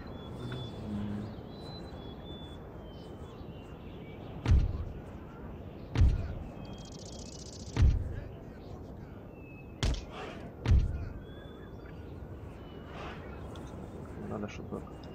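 Cannons fire in Empire: Total War: five deep, booming shots at irregular intervals over a few seconds, each a sharp thud that fades quickly, with a voice talking throughout.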